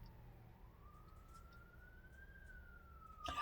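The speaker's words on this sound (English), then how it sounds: "Do you hear those sirens?" A faint siren wails in the distance, its pitch slowly rising and falling over a quiet low hum, ending with a brief burst of noise.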